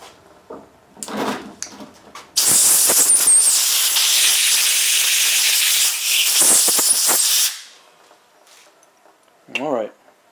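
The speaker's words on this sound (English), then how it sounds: "look at the steam on that" A loud, sustained hiss of steam rising off a hot 1928 Briggs Model FH engine, lasting several seconds, with faint clunks and a brief voice before and after it.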